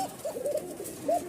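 A Bashiraj pigeon coos close by, a soft low burbling call repeated twice over a brief quiet moment.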